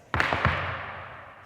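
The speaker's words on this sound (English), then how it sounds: "Another way of doing it is doing a single heel, like I was just doing, into a double heel, which sounds like this." Irish dance double heel taps on a floor: a sharp near strike followed by a second quick hit, leaving a reverberant room decay, with no talking.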